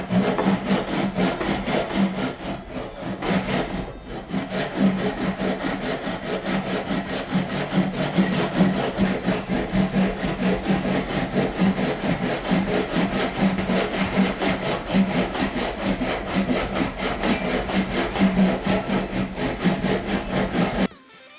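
A hand saw cuts steadily through wood for a Telecaster guitar body, the blade held parallel between two guide blocks, giving continuous rhythmic rasping strokes, close and loud, with a brief pause early on and no talk.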